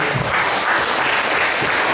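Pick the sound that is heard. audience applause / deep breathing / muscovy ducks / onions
audience applause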